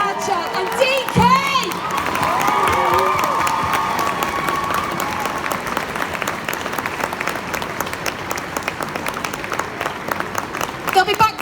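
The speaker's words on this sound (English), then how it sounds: "Stamp your feet, clap your hands" A Comic Con convention crowd in Liverpool bursts into loud, sustained applause and cheering, with feet stamping and shouts mixed in, while a host's amplified voice is heard at the start and end.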